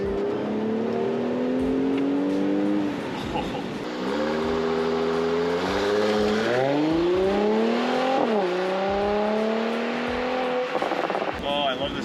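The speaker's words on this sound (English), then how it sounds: "Oh, I love the sound of the blow-off though" A tuned Mercedes C43 AMG engine revs up through several rising pulls, its tone climbing and dropping between shifts, with a brief blow-off valve hiss as the throttle lifts, heard from inside the car.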